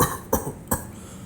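Two sharp coughs performed by an audiobook narrator, spaced about a third of a second apart, close and fairly loud with no words around them.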